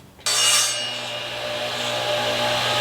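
A table saw rips 1-inch wood slats, starting abruptly and holding a loud, steady whine and rasp for a couple of seconds without any voices.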